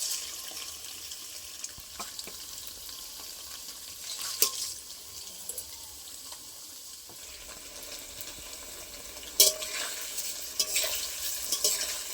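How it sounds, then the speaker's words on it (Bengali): Cut paneer pieces fry in a generous amount of hot oil, giving a steady close hiss of sizzling with a few sharper clicks and clatters, and no talk. "তেলটা গরম হয়ে গেছে, এবার কেটে রাখা পনিরগুলো ভেজে নেবো এক এক করে।"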